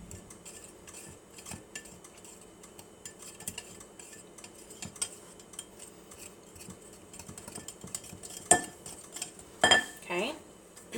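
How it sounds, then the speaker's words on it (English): A small pastry cutter works dry buttermilk biscuit ingredients together in a bowl, giving soft scraping with scattered metallic clinks that build into a few louder, sharper knocks near the end. "I use my little pastry cutter. You can use whatever you want to use to incorporate all the dry ingredients together."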